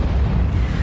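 Artillery fire in a World of Tanks battle between autoloading heavy tanks: a single heavy, rumbling low boom that fills the short moment, loud and close.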